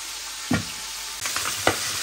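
Hilsa fish frying in a pan, a steady close sizzle with a few sharp crackles and spatters rising over the constant hiss.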